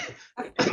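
Two or three quick, harsh coughs from a person, close and loud, with brief pauses between them and no talk over them.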